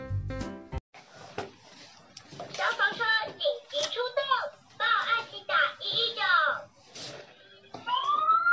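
A Taiwanese toy fire truck sounds short rising and falling siren wails in bursts, mixed with people talking nearby, including a child, and a click of handling at the start.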